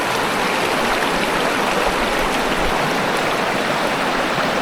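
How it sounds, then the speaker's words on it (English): East Fork of Timber Creek in Idaho, a headwater of the Little Lost River, flows with a steady broadband rush, like a close, full stream tumbling over rocks. It runs constant and fairly loud with no voices. "I think it's the East Fork of Timber Creek."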